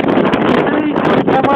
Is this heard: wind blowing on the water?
yes